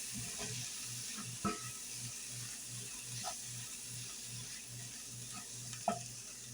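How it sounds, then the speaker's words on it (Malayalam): Sprouted cowpea thoran stirred in a hot pan, a faint steady sizzle with a few soft, sparse scrapes of the spoon against the pan. "ഇനി ഇതെല്ലാം കൂടി നന്നായി ഒന്ന് മിക്സ് ചെയ്തെടുക്കാം."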